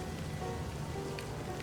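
Steady rain falls in the video game Livber: Smoke and Mirrors, a brief, even patter of drops on a surface.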